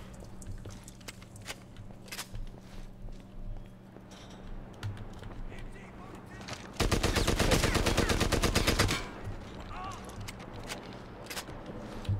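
Enemy gunfire in Medal of Honor: Airborne, shot up through floors: a loud, rapid automatic burst of about two seconds stands out mid-clip over quieter game ambience and scattered smaller shots.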